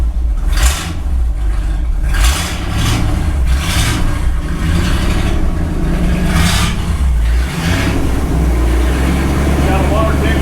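A 1964 Ford Galaxie V8 with a badly leaking exhaust runs loud and rough, surging through several revs over a steady low rumble, with people talking nearby.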